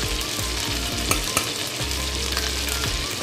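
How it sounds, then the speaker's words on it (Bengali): Banana flower with asafoetida, ginger and green chilli frying in a pan, a steady broadband sizzle with occasional stirring scrapes and clinks close up, no voices. "এবার আমি মোচাগুলো দিয়ে দিচ্ছি"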